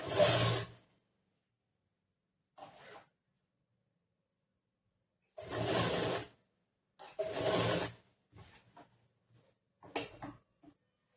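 A sewing machine stitches a churidar top in short, separate bursts of running, each lasting about a second, with silent pauses between them and a few quieter stutters near the end.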